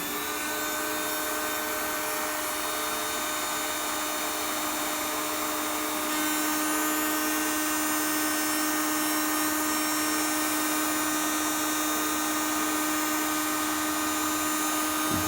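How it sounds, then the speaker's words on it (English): A heat gun fitted with an extra short nozzle tip blows continuously, giving a steady high-pitched whine with an airy rush, close and unbroken, with a slight shift in tone partway through. "But a little heat gun here, an extra tip just to make the heat nozzle a little bit shorter."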